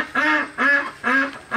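A farm duck quacks four times in a loud, close, evenly spaced series, each nasal call lasting about a third of a second.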